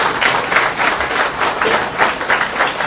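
Applause from an audience at a book signing and literary reading with slam poetry, a brief burst of steady, dense clapping close by, with no talk.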